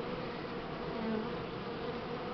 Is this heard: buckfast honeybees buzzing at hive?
yes